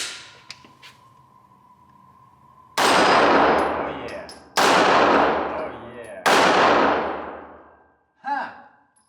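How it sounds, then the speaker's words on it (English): A Canik TP9 Elite SC 9mm pistol fires three loud, sharp shots spaced a couple of seconds apart at close range, each with a decaying echo, after faint clicks and a steady background tone; a brief voice follows. "So let's do some more shooting."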